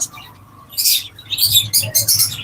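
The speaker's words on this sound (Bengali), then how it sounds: "ডিম বাচ্চা করা লাভবার্ড পাখি আছে একদম লোকাল ব্রিডের পাখি" Local-breed lovebirds from a farm chirp in bursts, with shrill, bright repeated tweets rising after a quieter start, close by and loud, with no speech.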